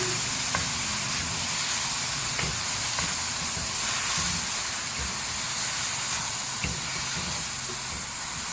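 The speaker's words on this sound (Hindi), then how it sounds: "पानी ड्राई करेंगे कीमे का।" Beef mince with garlic-ginger paste cooks while its water dries off, producing a continuous steamy hiss and sizzle with occasional stirring knocks, close and fairly loud.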